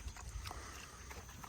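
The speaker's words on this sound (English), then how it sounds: "You can hear the pigs down there fussing over the food again." Pigs on a farm fuss over their feed, giving faint grunts and snorts heard from a distance over a low background rumble.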